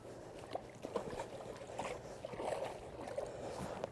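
A stand-up paddle board eases into shallow water at the shoreline. Soft, close sloshing and gentle splashes ripple continuously, with a few slightly stronger splashes rising above the quiet lapping.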